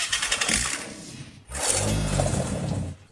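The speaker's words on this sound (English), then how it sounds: "after reconnecting the battery and starting it, the engine can still run normally." Old flood-damaged Toyota Prado 4000 engine cranking and starting, then running with a rough, deepened note from a deformed exhaust, loud and close with a brief dip before the engine catches.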